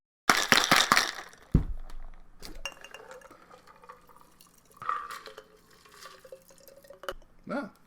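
Two drinks with lemon juice are poured: a few bright glass clinks open, followed by a thin trickle of liquid and small knocks and taps of glassware, near and fairly quiet.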